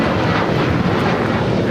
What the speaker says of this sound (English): 1668 taking off to Phoenix on a 737-800